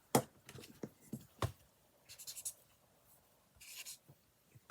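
A pencil writing on washi tape, heard as close, dry scratchy strokes in short bursts with small pauses between marks.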